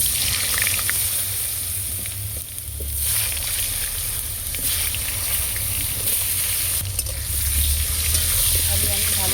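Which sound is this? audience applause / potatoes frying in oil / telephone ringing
potatoes frying in oil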